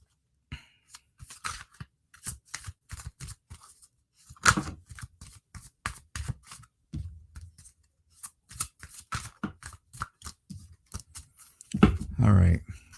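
Tarot cards being shuffled by hand, a series of quick close riffling and slapping bursts with short pauses between them, ending in a louder flurry, with someone talking.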